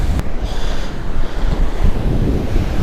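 Ocean surf breaks and washes steadily up a fishing beach, a loud continuous roar mixed with wind buffeting the microphone, and no voices.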